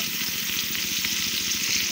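Onions and green chilies fry in a pan with a loud, continuous sizzle and crackle, close up and steady throughout.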